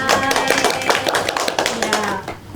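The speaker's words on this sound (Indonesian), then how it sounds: "Tepuk tangan untuk kalian semua." Students in a geography microteaching classroom clap for themselves, a brisk ragged burst of hand claps close by, mixed with children's voices and chatter throughout.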